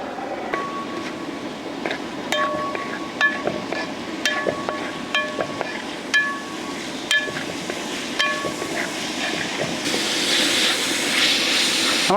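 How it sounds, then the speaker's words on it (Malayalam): Sliced onions and green chillies sizzling in coconut oil for a vegetable biryani, a continuous loud frying hiss with scattered sharp pops and crackles that grows denser and brighter toward the end. "സവോള പച്ചമുളക് കേട്ടോ അതിലേക്ക് വെളിച്ചെണ്ണ"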